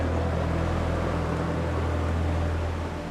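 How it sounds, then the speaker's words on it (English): A steady, droning boat engine roar over open sea, approaching, with a constant low hum, holding loud and even throughout with no voices. "I heard the roar of a boat again. It's getting louder."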